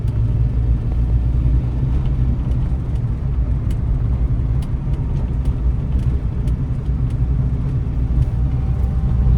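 A car's engine rumbles steadily from inside the cabin as the car speeds up on the road, a loud, constant low drone with faint ticks and no voices.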